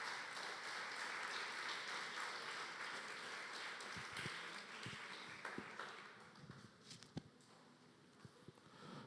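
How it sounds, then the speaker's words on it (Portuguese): A church congregation applauds in steady, dense clapping at moderate distance that gradually thins, ending with scattered individual claps. "Pode aplaudir o Senhor."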